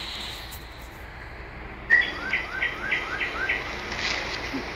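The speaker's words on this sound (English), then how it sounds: "Literally just some more birds." A short run of small bird chirps, about six quick evenly spaced calls, moderately close over a quiet hiss, with a faint thump at the start and no talking.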